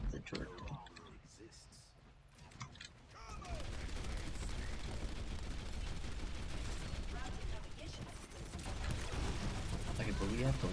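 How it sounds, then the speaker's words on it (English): Dense, sustained turret gunfire in a video game rattles almost without pause after a quieter start, with voices chatting over the shooting. "Like, I hear the turret."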